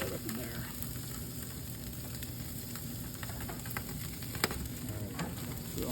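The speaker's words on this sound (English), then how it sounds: "just searing this in." A seasoned, twine-tied prime rib sears in a hot pan, giving a loud, steady sizzle and crackle up close, broken by a few faint knocks, with no talking.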